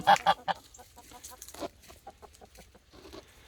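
Chickens cluck in short, choppy bursts close by, a quick uneven series of clucks and chatter.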